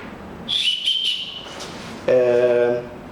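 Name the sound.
backpack safety whistle blown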